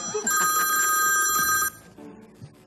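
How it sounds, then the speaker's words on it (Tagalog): A mobile phone rings loudly nearby with a bright, sustained electronic tone for about a second and a half, then cuts off, leaving faint room noise and murmuring voices. "yung phone mo yan"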